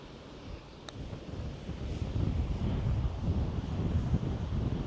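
A strong helping wind sweeps across a golf course by the Red Sea. A steady, rumbling gust buffets the microphone close up and swells louder toward the end, with no talking.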